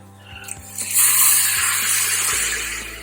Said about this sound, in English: You will add a little bit of water to that.